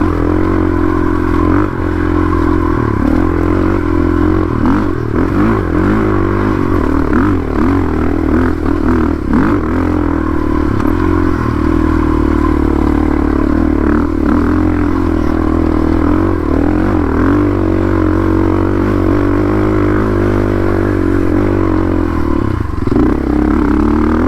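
An enduro motorcycle climbs a steep uphill backcountry trail under sustained throttle, its engine droning loud and close for the whole stretch, with clattering and scraping from the rough ground and occasional rev surges.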